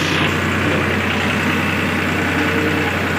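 A Swaraj tractor engine idles while the trolley is being pulled out: a steady, close, low diesel rumble that holds even and unbroken throughout, with no one speaking.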